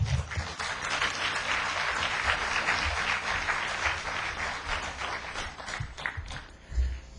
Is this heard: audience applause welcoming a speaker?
yes